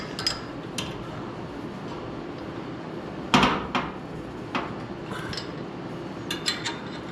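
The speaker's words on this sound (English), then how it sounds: "Yeah, screwdriver, especially now it's in an awkward position, just to tighten it up." A screwdriver tightens a fitting on a gas tank in an awkward spot, giving a handful of sharp metallic clicks and taps over a quiet, steady background, with no talking.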